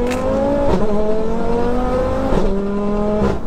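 Sports car engine revving hard through quick gear changes, loud and close, with sharp pitch drops at each shift and downshift, heard alone from inside the car.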